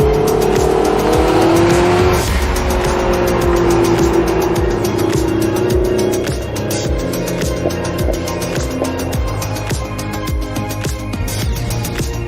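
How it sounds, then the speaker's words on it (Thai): A 2011 Mitsubishi Lancer EX 1.8 GLX with automatic transmission, its engine note loud and close, rising and falling through revs with a rough mechanical rasp and no talk over it. "ตัวนี้ถือว่าเป็นเครื่องบล็อกที่แรง นะครับ"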